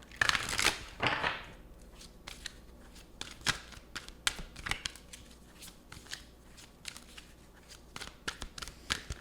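Tarot cards being shuffled close up, a burst of riffling followed by a series of quieter irregular slaps and flicks as the deck is handled.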